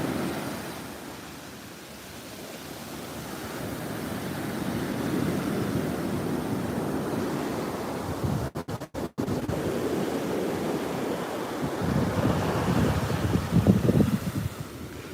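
Ocean waves washing ashore at a warm South Florida beach, a steady broadband surf wash with gusty wind buffeting the microphone, a brief dropout midway and a louder surge of breaking water near the end.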